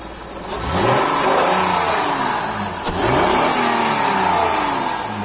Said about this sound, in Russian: Двигатель идеально работает